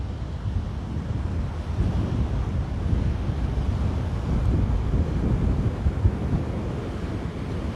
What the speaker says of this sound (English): this is a very popular beach